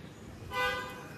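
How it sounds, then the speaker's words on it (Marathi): A single short car horn toot sounds at a distance over faint background noise, outside a hotel in Goa. "जिजूनी हॉर्न दिलाय"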